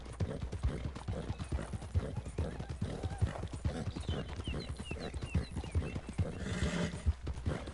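Horse hooves clip-clop steadily at a trot in the Red Dead Redemption 2 video game, with a horse whinnying near the end, all set against a dense background of game ambience.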